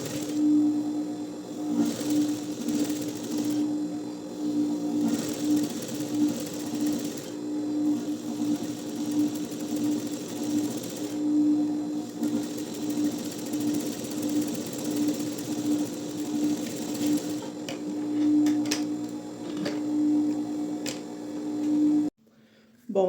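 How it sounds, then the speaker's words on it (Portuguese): A sewing machine stitches fabric closed for a capitonê tyre-style cushion, with a continuous, even mechanical whir and hum running for about twenty seconds before stopping abruptly. "E aí, eu vou passar uma costura aqui,"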